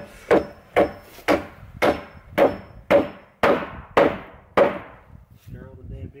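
Hammer blows land on wood at a deer camp, about nine sharp, evenly spaced strikes roughly half a second apart, close and loud, followed by a brief voice at the end.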